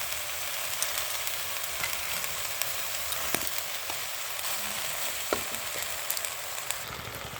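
Spinach cooking in a pan as it releases water, giving a steady, close sizzle and bubbling with occasional soft clicks and pops, and no talk over it.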